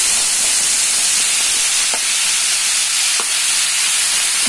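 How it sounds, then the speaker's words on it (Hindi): Cashews and tomatoes frying in a pan for paneer butter masala, giving a steady loud broadband sizzle and hiss throughout with a few brief stirring clicks, no talking. "अब इसमें डाल दूंगी मैं टमाटर"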